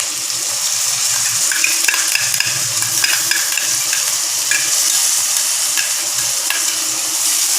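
Ground cumin and poppy seed paste stirred into a frying pan while cooking a broad bean stir-fry, giving a steady close sizzle with soft scraping stir strokes throughout, no voices.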